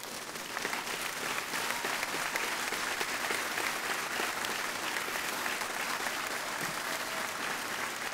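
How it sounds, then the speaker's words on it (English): Audience at a 2019 university graduation ceremony applauds the graduates, a dense, steady roar of many hands clapping throughout, with no speech over it. "I ask them to stand so we can give them a round of applause,"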